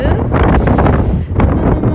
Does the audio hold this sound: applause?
no